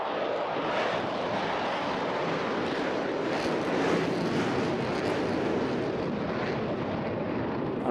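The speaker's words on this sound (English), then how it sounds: "But now he kicks in the afterburners" A jet fighter at a seaside airshow lights its afterburners after a low-speed pass near the stall, giving a loud, continuous broadband roar that holds steady and swells slightly mid-way.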